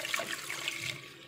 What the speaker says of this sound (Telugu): చారుకు తగ్గట్టుగా కొంచెం వాటర్ వేసుకుందాము